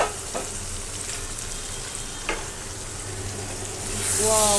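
Pumpkin badi (lentil dumplings) frying in oil for a fish curry, giving a steady close sizzle with a few soft stirring clicks, swelling louder in the last moment.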